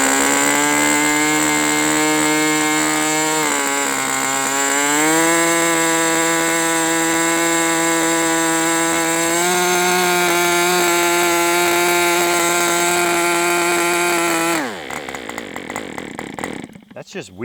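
An Aviastar 46 model airplane engine runs a break-in at a steady high-pitched buzz, rising in steps and then cutting off abruptly near the end. A voice may talk faintly underneath.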